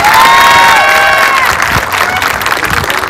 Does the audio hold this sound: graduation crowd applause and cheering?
yes